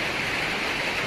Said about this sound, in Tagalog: Grabe talaga ulan dito, walang tigil oh.